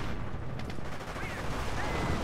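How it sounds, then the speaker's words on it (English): Distant rumbling battlefield gunfire from the World War II strategy game Company of Heroes, a dense, steady wash of rifle and machine-gun fire with faint shouted voices under it. "Give me covering fire on this"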